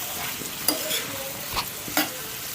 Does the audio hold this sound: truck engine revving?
no